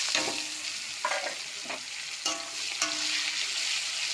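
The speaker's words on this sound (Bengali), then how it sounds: "তেজপাতা পেঁয়াজটাকে প্রথমে ভেজে নেব" Onions and bay leaves frying in mustard oil in a wok for a chicken dish, a bright steady sizzle broken by several stirring scrapes, close, with no talking.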